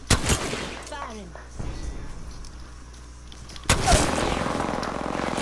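Mastiff shotgun blasts in an online shooter game, heavy booming shots at the start and another loud burst near the end, with quieter game sounds and a voice in between.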